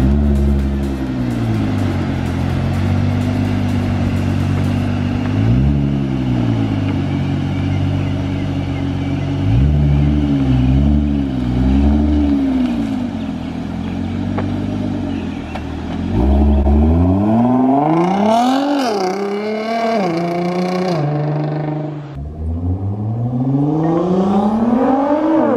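A Nissan GT-R R35 fitted with an Armytrix straight-pipe exhaust roars loudly and continuously, its engine note holding steady before rising and falling sharply in several revving passes as the car flies by.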